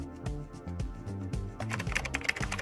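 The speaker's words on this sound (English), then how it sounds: "Enter your password." Keys tapped on a Mac keyboard while a password is entered, a steady run of close, soft clicks that grows busier and brighter toward the end, with a tonal background underneath.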